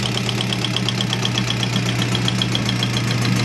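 An Isuzu 4JA1 diesel engine runs on a test bench, a steady mid-pitched hum with a regular ticking knock repeating throughout, even and continuous with no voices.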